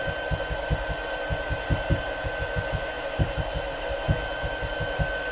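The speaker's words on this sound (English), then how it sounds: "we got a pretty good pile of embossing powder there, so we want to make sure we melt it" A heat tool blows steadily while it melts a pile of embossing powder. The even, hair-dryer-like whoosh and motor hum continue throughout, with soft low thumps repeating irregularly underneath.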